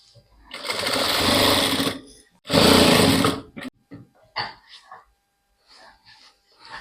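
A sewing machine runs top stitching on a dress in two loud bursts of steady mechanical whirring, followed by quieter short clicks and taps of the machine and fabric handling.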